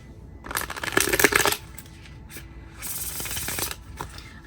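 Two quick riffle shuffles of a huge deck made of about 16 card decks combined, each a crisp fluttering burst of cards with a pause between them, close by.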